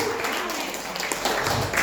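A church congregation claps, a burst of mixed, overlapping applause filling the room, heard together with voices.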